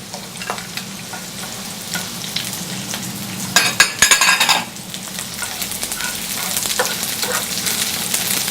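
Peppers and onions fry in a pan in a restaurant kitchen, making a continuous sizzle with a louder crackling burst midway and scattered stirring clatter.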